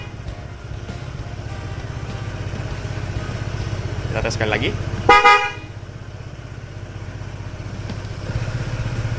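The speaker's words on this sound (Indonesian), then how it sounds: "kita coba tes untuk suara klakson yang sudah saya instalasi ulang" A reinstalled horn on a Honda ADV 160 scooter sounds in two short toots under a steady idling engine hum, with someone speaking just before.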